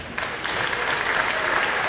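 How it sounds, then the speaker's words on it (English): Dense, steady applause from a banquet audience at a high school athletic awards event, a continuous wash of many hands clapping at moderate loudness throughout. "Let's give them another round of applause."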